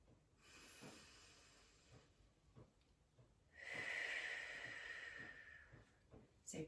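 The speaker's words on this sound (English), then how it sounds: "Inhaling through the nose, exhaling through the mouth." Slow deep breathing during a Pilates exercise, a soft airy inhale through the nose followed by a louder, longer hissing exhale through the mouth, close and quiet with no talking.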